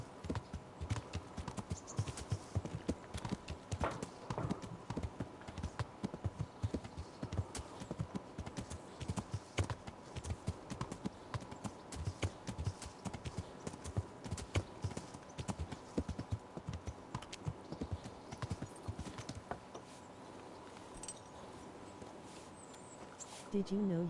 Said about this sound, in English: reckless horse riding